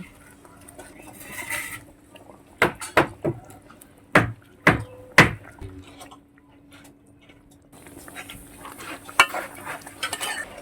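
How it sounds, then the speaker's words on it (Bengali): Yam koftas go one by one into simmering gravy in a pan, making several sharp clinks and plops spread over a few seconds, set against a low background hum and faint bubbling, with quiet talk near the start and end. "এইবার বড়াগুলো ছেড়ে দিচ্ছি।"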